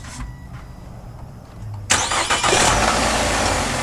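A 2011 Nissan Altima engine cranks and catches at close range, with a low mechanical rumble before a sudden loud burst of running engine noise that holds steady through the rest.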